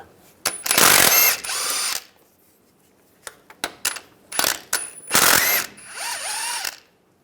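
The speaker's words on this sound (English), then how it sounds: "you can take these 2 bolts out, use an 18mm socket" A ratchet with an 18mm socket working the bracket bolts on a 2007-2013 Chevrolet Silverado passenger-side differential, close bursts of rapid clicking separated by pauses and a few metallic taps.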